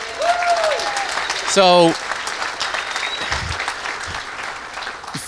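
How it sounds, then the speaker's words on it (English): Round of applause from an audience at a hotel gathering at the University of Maryland, steady clapping with a few whistles and voices rising over it and a short spoken word near the start. "Can we give Richard a round of applause?"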